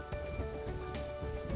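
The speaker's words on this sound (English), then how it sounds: "So I do welcome this rain." Monsoon rain falls steadily on Mt. Charleston, a soft, dense patter of drops striking a nearby surface, quiet and continuous with no voices.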